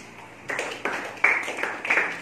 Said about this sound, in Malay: Tepuk tangan tu Aziz.